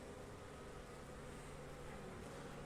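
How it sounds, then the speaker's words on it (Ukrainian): Honeybees fly around a beehive on a sunny day, a steady dense buzzing hum that fills the whole short stretch with no voices. "Зраділи бджілки сонечко"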